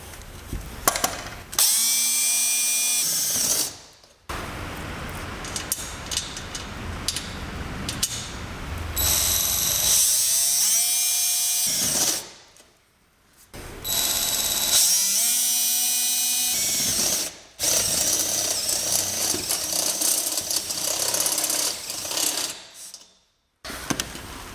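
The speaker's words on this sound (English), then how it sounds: "I'm just going to go ahead and use this step drill bit" A step drill bit bores holes while a Chamberlain RJO20 wall-mount garage door opener is installed. Several long, loud, high-pitched whining drill runs are broken by short silent pauses between holes.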